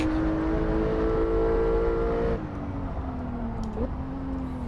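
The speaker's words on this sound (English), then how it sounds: "The engine does have a very nice howl to it as you get into the upper regions of the rev range" Porsche flat-six engine holding a steady high-revving howl, then dropping pitch abruptly as revs fall and settling into a lower drone before a brief blip, loud and close with no talking.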